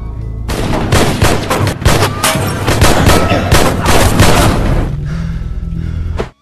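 Heavy gunfire in a film shootout: dense, loud bursts of shots and booms crowd the scene almost nonstop for about five seconds, then give way to a lower rumble before cutting off.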